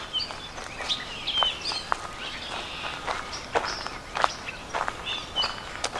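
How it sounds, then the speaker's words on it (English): Birds sing with scattered chirps and whistled phrases along a park trail in blooming brush, while footsteps crunch steadily in the foreground. "It's just loaded with birds singing"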